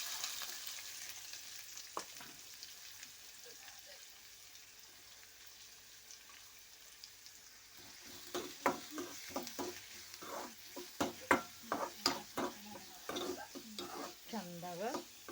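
A large chopped onion frying in a pan with dried red chillies, a soft low sizzle that grows busier toward the end as it is stirred, with scraping utensil strokes.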